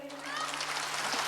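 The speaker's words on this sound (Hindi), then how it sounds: "तालियां बजाइए।" Audience applause at a live kavi sammelan poetry recital in Raipur, a steady dense crackle of many hands clapping that holds for the whole moment.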